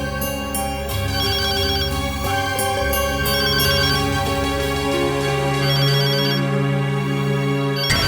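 A mobile phone plays a melodic electronic ringtone, repeating its tune loudly and continuously for several seconds, alone without talking.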